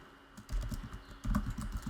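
Close, clicky typing on a computer keyboard during live coding of music, with bursts of rapid keystrokes and a brief pause, no voices.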